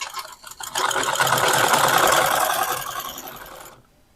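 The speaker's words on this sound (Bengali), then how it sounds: "আমি এখন কিন্তু চালাই দেখালাম যে শব্দ আছে" Sewing machine running noisily before it has been oiled, a steady close mechanical whir with rattling texture that holds for a few seconds and then stops.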